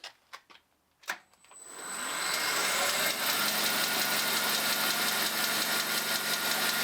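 A 10EE lathe spins up in direct drive to 1200 RPM: a few faint clicks and knocks, then a steady broadband machine whir with a thin high whine that holds loud and constant to the end.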